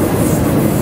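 A freight train rolls on tracks between Lincoln and Chicago, a loud close steady rumble with faint clattering wheels, heard from aboard while trainhopping, no voices.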